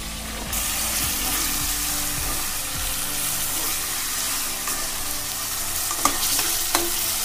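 Chicken fries in oil with a steady, moderate sizzle, scraped and stirred a few times early on, with a couple of sharp clinks near the end.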